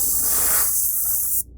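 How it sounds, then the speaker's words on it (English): An airbrush sprays black paint thinned almost to water onto a scale model building roof, a loud, steady hiss that cuts off abruptly near the end. "let me get the airbrush fired up and we'll take care of that"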